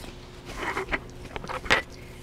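Several crisp crunchy bites into five-year-old freeze-dried apple, close up, with brief snapping bursts spread over a couple of seconds and no talking.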